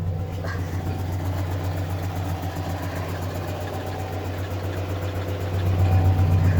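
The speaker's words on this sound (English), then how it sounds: "It's just I hear exhaust leak making it sound like it's misfiring." A Nissan KA24 engine in a Toyota AE86 idles steadily with a low, rough rumble and uneven pulsing from an exhaust leak, growing slightly louder near the end; no one speaks.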